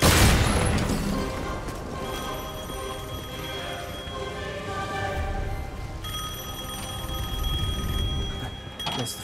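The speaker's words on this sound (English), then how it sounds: "The phone still works." A telephone rings in the Devil May Cry 5 video game, a steady repeating electronic bell that runs through the whole stretch, layered over dense game music and ambient noise at fairly constant loudness.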